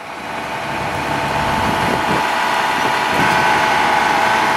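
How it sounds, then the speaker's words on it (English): An Allis Chalmers 8050 diesel tractor running with its PTO engaged, a steady loud close engine drone with a constant mechanical hum that rises slightly in level partway through. "Got the PTO working here."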